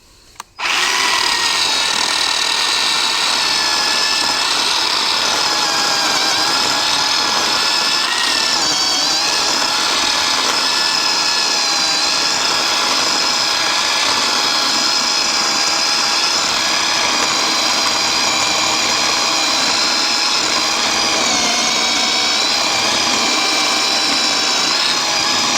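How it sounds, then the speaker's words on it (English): A Harbor Freight 10-inch electric chainsaw cutting through an 8-inch log, giving a loud, steady, high whining buzz up close that runs unbroken from a sudden start to the end. "if this is a 10-inch chainsaw, I've got about 2 inches sticking out the other side, cutting an 8-inch log"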